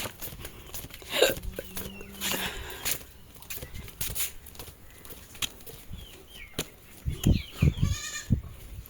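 Goats bleat a few times at close range amid rustling and scattered thumps, with brief faint bird chirps near the end.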